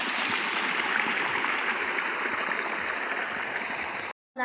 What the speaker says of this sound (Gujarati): જો બોર ચાલુ છે અત્યારે ભાતીબેન ભરી પાણી